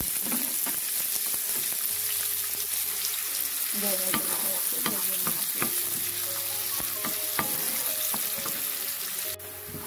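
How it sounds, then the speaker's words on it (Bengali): Cumin seeds and a large onion fry in hot oil in a pan for an eggplant and potato bhaji, a loud continuous sizzle with repeated scraping stir strokes and utensil taps close by. "প্রথমে দিয়ে দিচ্ছি 1 টিস্পুন জিরা এবং তারপর এটাতে দিয়ে দিচ্ছি বড় একটা পেঁয়াজ"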